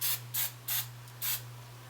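Hair spray is sprayed onto curled hair in four short bursts of hissing mist, close and distinct, evenly spaced with brief pauses between them, over a faint steady low hum.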